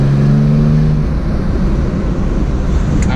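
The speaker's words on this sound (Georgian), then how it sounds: "ეს არის 6 ცილინდრიანი სწორად განლაგებული ძრავი, რომელსაც აქვს სასწაულად სასიამოვნო ხმა." A 1985 BMW 320i E30 with an inline six-cylinder engine drones loudly and steadily from inside the moving car, a brief higher tone easing off early, heard alone.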